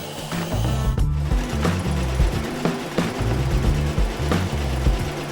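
A household electric sewing machine running steadily at speed, a loud, close mechanical whirr with a rapid rhythmic chatter that stays even throughout, broken only by one brief dip; no voices.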